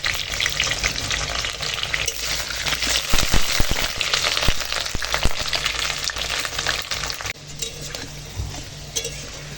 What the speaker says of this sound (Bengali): তেল গরম হয়ে গেছে আলুটা সোনালি করে ভেজে নিচ্ছি